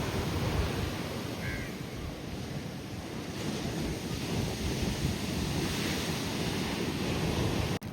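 Loud, continuous rushing of churning water, a dense roar with wind buffeting the microphone throughout.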